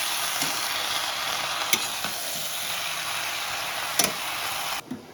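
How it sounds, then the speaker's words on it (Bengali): Cabbage is stirred in a hot pan for Bengali koi fish curry. A close, steady hiss of sizzling is broken by a few sharp spatula clacks before it cuts off abruptly near the end. "একটু নাড়িয়ে দিচ্ছি।"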